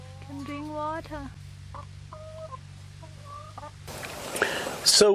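A hen recovering from surgery in Thailand clucks in short repeated bursts close by over a low hum, then rustling and handling noise takes over near the end.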